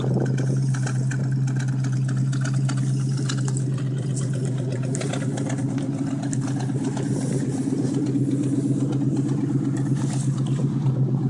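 An AMC Rambler Hornet engine idles steadily with a low, even hum and a slightly rough, puffy pulse, close and loud throughout with no pauses.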